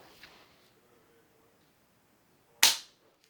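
A rifle trigger dry-fired with no round, producing a single sharp, close click that stands out against an otherwise near-silent room, preceded by a few faint mechanical ticks.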